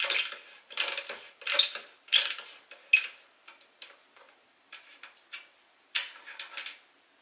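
Screw being unscrewed on a Xiaomi M365 electric scooter's folding handlebar stem: a series of close ratcheting clicks and scraping ticks, dense at first, then thinning out into quieter, spaced clicks.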